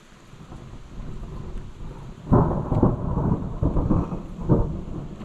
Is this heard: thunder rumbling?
yes